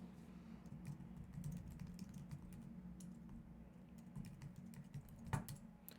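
Quiet, steady tapping on a computer keyboard as a form name is typed, a run of soft keystrokes over a low hum with one slightly louder key near the end.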